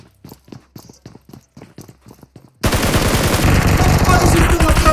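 Gunfire in PUBG Mobile: a string of sharp, evenly spaced shots crack close and loud, then a dense, sustained burst of automatic fire takes over and fills the rest.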